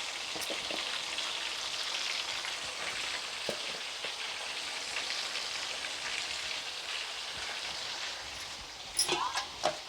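Crabs fry in a pan in a village kitchen, giving a steady, even sizzle that runs throughout with faint stirring scrapes, then a few louder clatters near the end.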